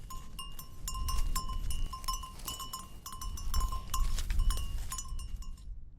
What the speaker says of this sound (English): Goats are gentle creatures and not very big.